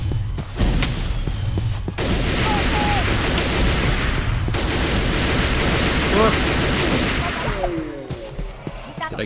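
Gunfire from an accurate gun in the video game Manufactio, with loud, close shots fired in quick bursts over a busy, rumbling game soundscape.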